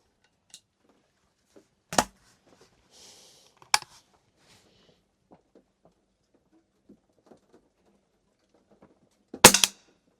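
Pistol gunshots at a range while zeroing an Olight red dot sight, three sharp loud reports spaced seconds apart, with quiet handling clicks between them.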